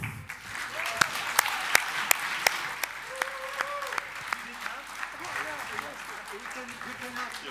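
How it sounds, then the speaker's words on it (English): A crowd at a national contest breaks into lively applause, with crisp, close claps spread throughout and cheering voices mixed in. "another round of applause to all of you guys"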